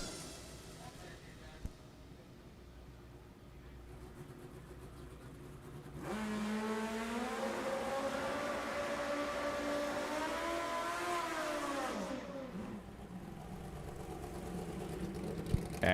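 A drag racing motorcycle at a PDRA North vs South Shootout event makes a loud, sustained engine roar for several seconds, rising in pitch as it accelerates down the track before dropping back to crowd ambience.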